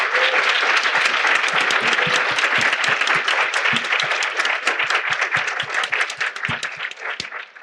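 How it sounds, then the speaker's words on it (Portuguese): A conference audience applauds three panelists at an international education symposium, dense sustained clapping that fills the room and slowly thins toward the end. "queria pedir uma grande salva de palmas para as 3, porque elas foram brilhantes"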